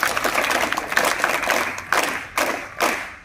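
An audience of students and guests at an English-medium school in Panchgani claps during a lecture, a dense burst of applause that thins into a few scattered, louder claps near the end.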